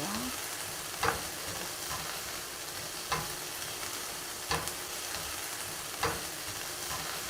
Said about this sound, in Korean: 팬이 약간 달궈지면은요, 아보카도 오일을 조금 넣고요. 네, 양파를 먼저 볶도록 할게요.